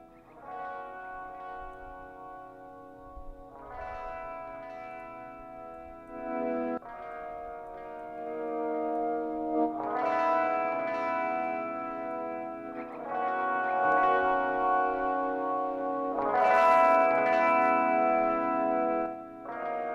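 Sustained, heavily effected guitar chords pass through the T-RackS 5 Space Delay set fully wet with ducking, so the echoes swell and pull back as each new phrase enters, loud and reverberant with no talking.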